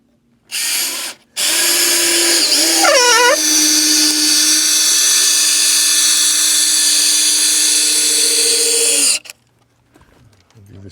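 A power driver sinks a timber screw into a timber frame joint: a short burst, a pause, then one long, loud, steady whine that slows in pitch partway through before cutting off abruptly.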